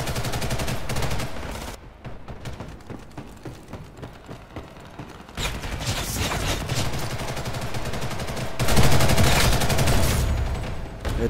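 Sustained automatic gunfire in the online shooter Ghost in the Shell: First Assault, loud dense bursts of rapid shots with brief lulls and a heavier volley near the end.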